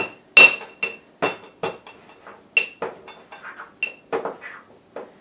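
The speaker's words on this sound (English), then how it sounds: "see if I can't put it through the mortar and pestle and get it down." A pestle strikes and grinds dried orange rind in a mortar, giving a dozen or so sharp, close ringing knocks at an uneven, pounding rhythm.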